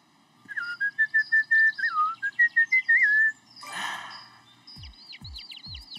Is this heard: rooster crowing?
no